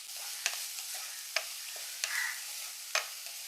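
Chopped onion, green chili and curry leaves sauté in a pan, a soft sizzle broken by four sharp scraping stirs spaced under a second apart, quiet and close with no talking.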